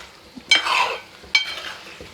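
Kerala duck roast masala with coconut milk stirred in a pan, two loud scraping sweeps of the spoon over a low sizzle.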